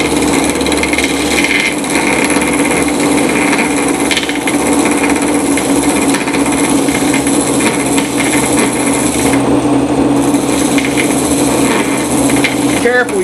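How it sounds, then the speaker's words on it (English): A spinning wheel whirs steadily while its edge is cut clean with a hand tool, a constant loud grinding hum with scraping texture running throughout without pause. "So what we got here is just an easy way to spin the wheel and clean the edge up."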